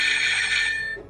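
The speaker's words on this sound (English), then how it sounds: "Old school ringtone, but in the not, how to say, pleasant way." A SilverCrest STK 17 A1 wireless doorbell chime plays a loud, shrill, old-fashioned ringtone that sustains for about a second and then fades out, heard on its own without talk.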